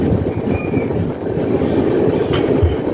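A train rolls slowly along the Pratapgarh–Sultanpur railway line during track doubling work, a loud steady rumble of wheels and carriages heard from on board, with a faint squeal near the end.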